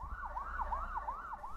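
An ambulance siren on a city street, a wailing tone sweeping up and down about five times in quick succession, fairly clear over a low rumble of traffic.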